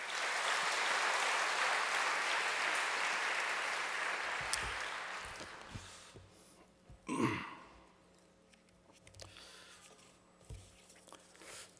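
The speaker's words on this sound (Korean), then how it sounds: "우리 김 목사님도 박수로 환영하겠습니다." A church congregation gathered for an afternoon worship service applauds to welcome a pastor. The clapping is broad and steady for several seconds, then fades out, and a few scattered noises follow in the quiet room.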